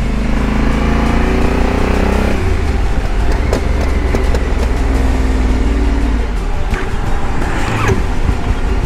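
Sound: motorcycle engine running with clutch problem

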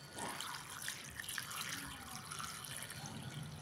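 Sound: clean water poured into a bowl of karela

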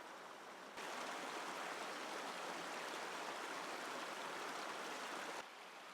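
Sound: flowing water of mountain spring stream at Geomryongso

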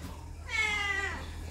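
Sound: cat meowing

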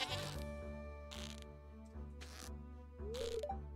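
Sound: goat bleating in Stardew Valley video game

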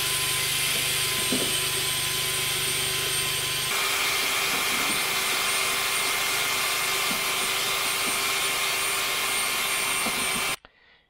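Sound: electric generator running to power a mixer

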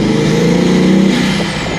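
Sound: Bugatti Veyron accelerating from a standstill

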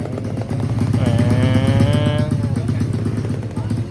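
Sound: exhaust sound of an RC car in Roblox video game

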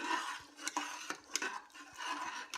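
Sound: stirring peas and fenugreek pulao mixture in a pot

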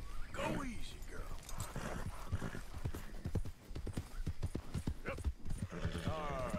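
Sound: horse galloping in video game Red Dead Redemption 2

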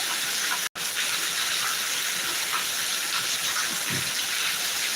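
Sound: heavy summer rain

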